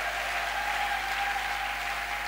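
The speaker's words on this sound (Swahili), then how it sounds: "Badada mpike kwanza makofi badada." Women in a church congregation clap together in a sustained, even burst of applause, close and steady, with a faint hum underneath.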